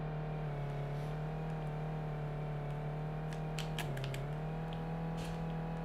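Simulated car engine in a homemade Godot video game, a steady synthetic drone holding one pitch with a brief dip and recovery midway, faint and continuous with light clicks above.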